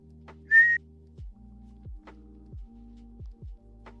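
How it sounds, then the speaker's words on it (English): A single short, clear whistled note from a person, heard once, set against low throbbing hum and repeated soft thumps. "can you whistle? I can try."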